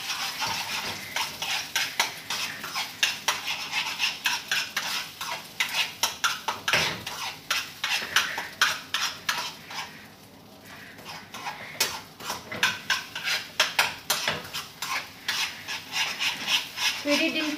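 Rice being stirred in a pan after cooking with oil, giving a steady run of quick scraping and clinking strokes of utensil against metal, close and fairly loud, with a brief pause midway.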